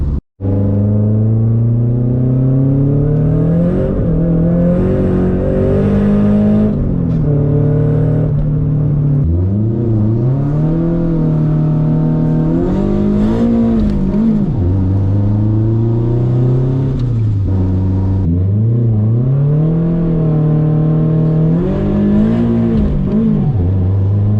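A Nissan Silvia S14 engine runs after a mass airflow sensor swap, idling and revving in repeated rises and falls, loud and close with no talk.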